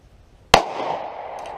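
A single sharp report from a small pistol, a so-called mouse gun, fired on a range, a loud crack followed by a decaying ring of echo, then a faint click near the end.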